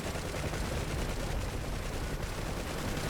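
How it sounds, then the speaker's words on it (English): Distant gunfire and explosions in a DCS World UH-1H helicopter combat mission, a dense continuous rumble and crackle of fire with no distinct single blast, steady throughout. "Bit of an explosion in the background there."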